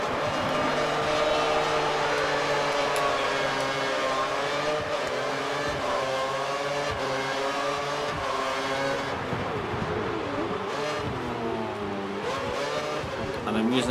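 Formula 1 race cars in a racing game scream off the start line together, a loud, sustained wall of high revving engines with rising pitch as they accelerate, tire noise mixed in.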